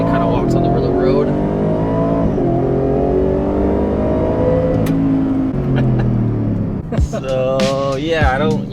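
A 2023 Ford F-150 Raptor R pickup truck accelerating at full throttle on the road, its engine roaring loud and steady from inside the cab with rising pitch through the gears, as people talk and whoop near the end.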